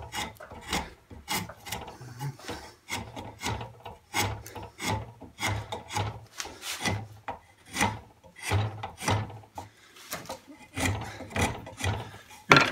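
Wood being shaved to make a tool handle, a repeated rasping stroke in a steady back-and-forth rhythm, close and clear with brief pauses between strokes and no talking.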